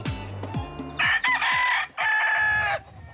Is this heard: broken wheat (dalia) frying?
no